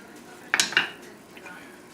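Dishes and cutlery clink briefly while veal rack is plated, a few close clatters of plate and utensil in a quiet room.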